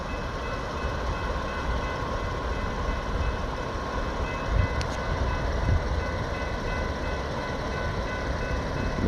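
An Amtrak passenger train passes at a highway crossing near Lompoc, California: a steady, fairly distant rumble of rail cars rolls on without a break, with a faint high tone and no speech.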